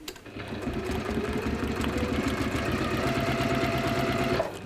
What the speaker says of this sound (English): I'm going to sew from that little line to that little line.